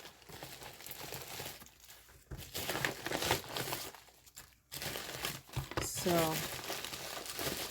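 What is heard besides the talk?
pulling craft supplies out of packaging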